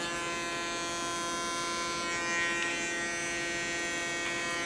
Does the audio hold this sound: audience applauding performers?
no